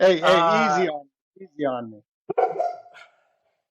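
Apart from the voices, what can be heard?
dog barking in the background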